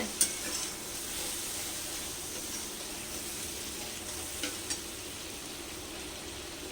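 Spices frying at low heat in a pan on a gas stove after a splash of water, giving a steady soft sizzle with faint stirring scrapes, quiet and continuous with no talk.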